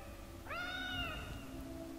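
A cat-like creature in Fallout 3 lets out a single drawn-out, rising yowl lasting about a second, clear and fairly close over a faint game ambience.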